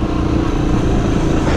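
An enduro motorcycle engine on a rough trail, close and loud, droning steadily with a rough, buzzing, uneven running tone and no talking.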